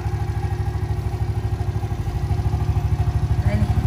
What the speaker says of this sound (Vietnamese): máy nổ không nghe tiếng động